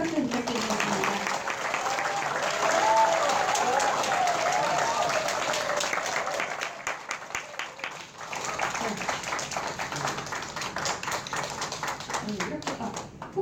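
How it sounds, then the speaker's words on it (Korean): An audience at a press conference for a Seoul education superintendent candidate gives hearty applause, dense clapping at first that thins into scattered, distinct claps, with faint voices beneath. "여러분 힘찬 박수 부탁드리겠습니다"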